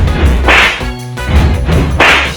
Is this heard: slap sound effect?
yes